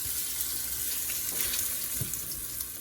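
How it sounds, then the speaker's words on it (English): Tap water runs steadily into a kitchen sink while dishes are washed, a close, hissing stream with small clinks and splashes and no talking. "we like to wash our dishes as we go"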